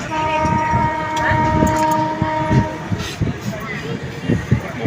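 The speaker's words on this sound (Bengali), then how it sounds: "ট্রেনটা একটু ডিলে রয়েছে এই মুহূর্তে, বাট স্পিড বেশ ভালো আছে ট্রেনের" The 13151 Kolkata–Jammu Tawi Express runs at good speed, its steady rumble and rhythmic wheel knocks heard from inside a coach, with a faint horn tone and people talking over it.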